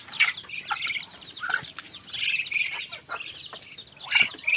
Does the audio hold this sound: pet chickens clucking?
yes